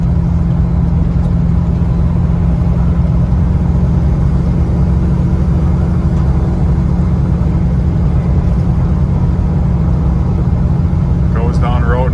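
A 1986 Ford Bronco XLT's 351 V8 drones steadily while cruising on the road, a loud constant low rumble with cab and wind noise, someone talking over it.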